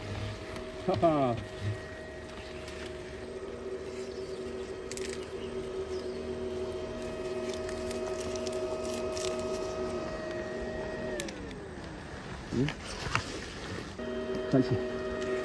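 A vacuum cleaner sucks up golden-ringed hornets at a melon trellis in a vegetable garden, its steady motor whine dropping in pitch near the end, with brief thumps and people talking.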